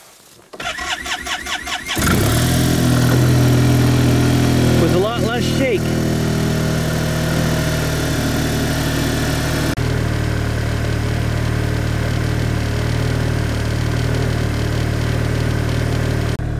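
A vehicle engine cranks briefly, catches and settles into a loud, steady high idle that runs on without a break; a voice can be heard talking over it near the start.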